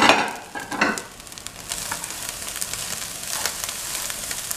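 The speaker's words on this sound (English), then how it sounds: "Stir it through the spices that you have in there." Cooked rice is stirred through spices in a frying pan, with scraping and stirring strokes over a soft sizzle, louder at first and then settling to a steady low frying hiss.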